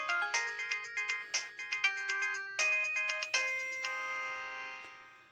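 A phone ringtone plays as a MIDI file: bright, clear synthetic chime notes in a quick repeating melody, close and clean with no talking, fading out as the last tones ring.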